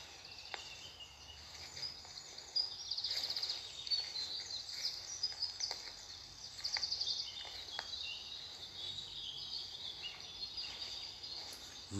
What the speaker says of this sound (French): Chant des oiseaux.